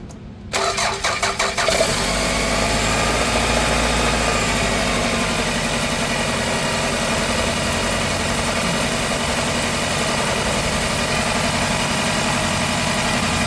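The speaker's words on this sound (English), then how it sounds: "So we will start the engine and we'll see how much manifold vacuum we have." A car engine cranks and catches in the first two seconds, then settles into a steady, loud idle that runs on alone for the rest of the clip, during a manifold vacuum check while testing a catalytic converter.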